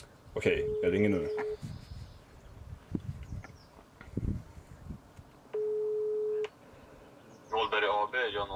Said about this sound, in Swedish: Okej, jag ringer nu.